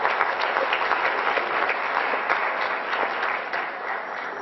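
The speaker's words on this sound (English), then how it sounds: "Give them a nice round of applause." A school audience claps for a group of sophomores, a full, even burst of applause from many hands lasting a few seconds and tapering slightly at the end.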